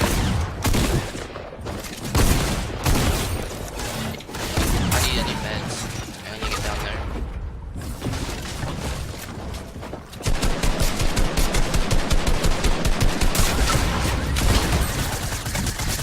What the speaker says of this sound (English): Check out this clip of DK killing it with the new gun.